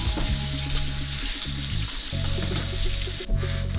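About 300 grams of mushrooms rinsed under a running kitchen tap, a steady close hiss of water with a faint hum behind it and brief shifts as the mushrooms move through the stream.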